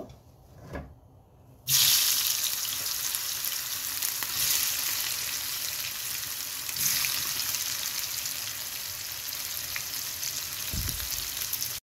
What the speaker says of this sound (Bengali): প্রথমে আমি সয়াগুলো ভেজে নিব